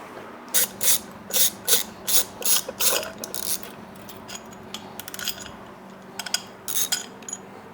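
A hand ratchet clicks in quick bursts while removing the intake manifold from a Toyota AE86 Corolla engine, several close, sharp rattling strokes at first, then sparser clicks and metallic handling of parts.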